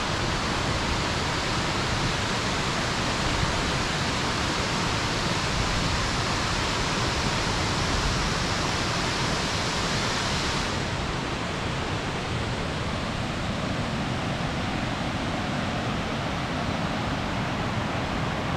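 Millaa Millaa Falls pours a steady, loud roar of rushing water close by, a dense unbroken hiss that barely shifts in tone, with no voices.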